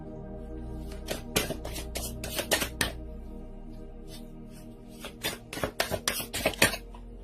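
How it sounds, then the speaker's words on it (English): Quiet, papery bursts of tarot cards being shuffled come in two clusters of rapid flicks and slaps, separated by a short pause. "Just get a good shuffle in."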